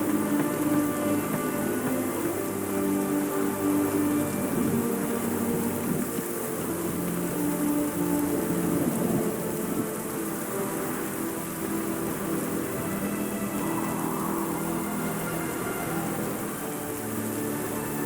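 Steady rain falling in The Witcher 3, a dense, even hiss of drops on surfaces that holds at constant loudness throughout, with no voices.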